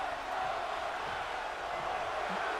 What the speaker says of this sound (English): The crowd chanting one more time.